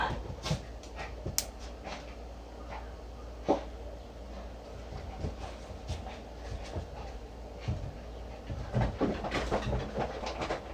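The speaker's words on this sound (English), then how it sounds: "That is my dog. He has the zoomies right now." An excited dog pants with the zoomies indoors, quick breathy huffs and faint whimpers near the microphone, with scattered small knocks and no talk.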